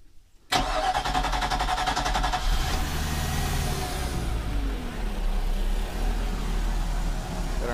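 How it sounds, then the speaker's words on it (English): A Mercruiser 5.0 MPI marine engine cranks and catches after a moment of quiet, then settles into a loud, steady idle rumble that stays close and continues without talk. "So here we go, we're gonna fire it up, let it run a little bit, and then we'll test it."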